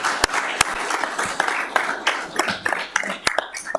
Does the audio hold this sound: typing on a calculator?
no